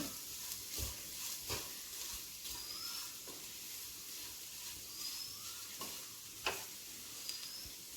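Clams for a Kerala kakka thoran sizzle steadily in a pan while being stirred and sautéed, with a constant hiss broken by scattered clicks and scrapes from the spoon against the pan.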